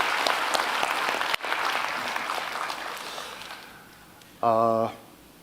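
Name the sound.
church congregation applause of thanks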